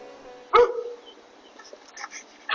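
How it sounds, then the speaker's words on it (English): A neighbor's dog lets out a single loud, close bark. A few faint, higher yips and barks from dogs nearby follow, with quiet kitchen sounds in the background. "Ah, our neighbor dog is busy."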